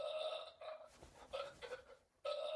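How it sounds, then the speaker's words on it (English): A man lets out a burp, a drawn-out, close and fairly loud belch with a voiced, tonal quality. Short pauses break it into separate bursts. "I think I have a burp coming."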